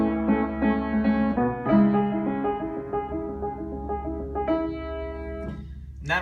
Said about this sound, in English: So we're going to start with that little motive, and it sounds like this.